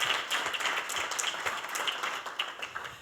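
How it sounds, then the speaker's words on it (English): Audience at a United Way business recognition event claps for funded community partner agencies, a lively burst of individual claps that gradually thins and softens over a few seconds. "give a round of applause for all of these organizations"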